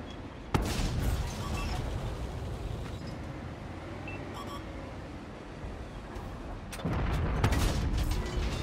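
Tank cannon shots in World of Tanks, from an FV4202 Tier 10 tank: a sharp, heavy blast opens, then a low rumbling battlefield bed follows, and a second loud burst of firing comes near the end.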